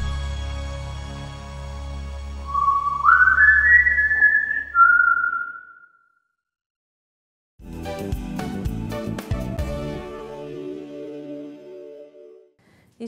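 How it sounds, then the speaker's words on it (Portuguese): A melodic whistled tune rising and sliding over a low hum, then a pause, followed by busier music-like sound. "Siga o assobio."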